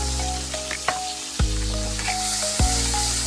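Liquid sizzles steadily in a hot pan as a little milk goes into melted butter and flour for a cordon bleu sauce, with a few soft stirring knocks and clinks, and no one talking.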